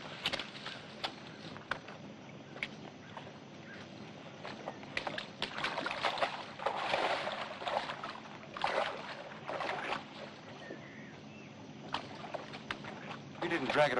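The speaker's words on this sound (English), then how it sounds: "James, give me a hand with the boat." Wooden knocks, scrapes and bumps as a small boat is shifted and handled nearby, with people talking over the clatter.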